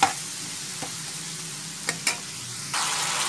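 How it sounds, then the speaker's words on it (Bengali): Onion, garlic and dry spices cooking down in a pan with a splash of water, a steady low sizzle broken by a few scraping stir knocks and a brighter hiss near the end. "অল্প একটু জল দিয়ে এই পুরো পেঁয়াজ রসুন আর ড্রাই যে মশলাগুলো সেগুলো ভালো করে কষিয়ে নেব।"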